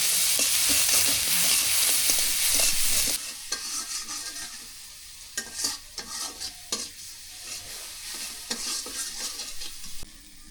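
Spice paste with chili and turmeric is stirred and fried in a pan for a village-style whole fish curry, a loud continuous sizzle at first, then quieter frying broken by scrapes and clinks of the spoon.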